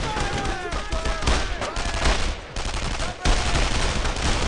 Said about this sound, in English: this is kind of a good way to explain the gunfire mechanic